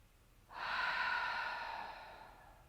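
One slow, deep exhale during a relaxing yoga flow, starting abruptly, close and soft, then gently tapering off into quiet.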